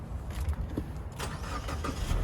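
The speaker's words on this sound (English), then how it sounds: "Now let's go ahead and start this car." A 2018 Subaru WRX Premium CVT started by push button: a brief starter whir and the engine catching, then settling into a fairly quiet idle heard from inside the car.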